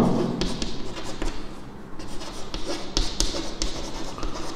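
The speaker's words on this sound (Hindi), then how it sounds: "अभी मैं लिखता हूं" A pen scratches steadily across paper during a math lesson, close and fairly loud, with continuous scribbling strokes and a few sharper taps, no talking over it.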